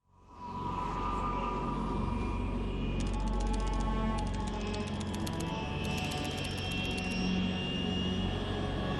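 Jet aircraft engine from Metal Gear Solid 3, flying at altitude over the Arctic Ocean: a loud, continuous roaring drone that swells in quickly and holds steady, with a faint high whine layered on top.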